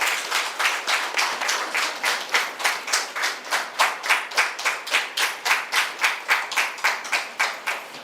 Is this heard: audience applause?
yes